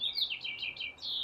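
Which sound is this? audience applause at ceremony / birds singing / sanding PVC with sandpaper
birds singing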